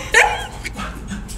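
Puppies give a short, sharp yip up close, followed by softer whimpers and faint yelps over a brief moment.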